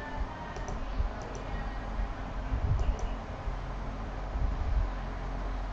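A few faint, sparse keystrokes on a computer keyboard click over a steady background hiss.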